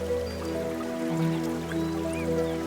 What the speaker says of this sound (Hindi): पानी के चलने की आवाज,